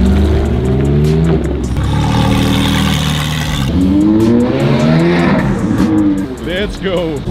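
A Lamborghini 350 GT, the first Lamborghini ever built, revs hard on a race track, its engine note climbing and falling through several loud, close pulls, with voices faintly underneath.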